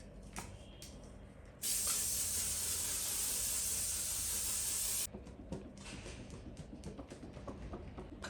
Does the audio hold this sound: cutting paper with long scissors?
no